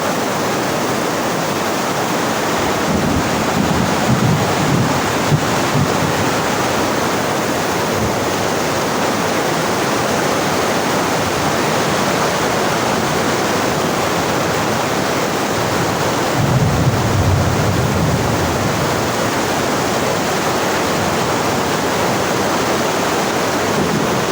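A large volume of rushing water in hilly country roars steadily and close, a dense continuous wash with slight swells partway through and no voices.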